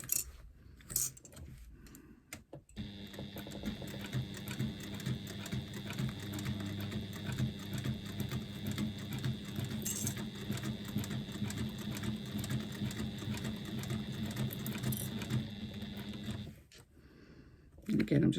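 Sewing machine stitching over folded faux leather edges, running steadily for about fourteen seconds with a rapid mechanical chatter, close and moderately loud, with brief stops at start and end.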